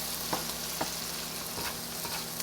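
Garlic and ginger sauté in a pan with a steady, close sizzle, broken by several scraping stir strokes at roughly even intervals; no one speaks.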